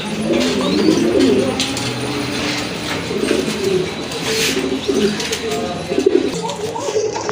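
Pigeons, including red gola and red rajgola breeds, coo repeatedly in low, throaty murmurs amid steady background noise and voices at a pigeon sale.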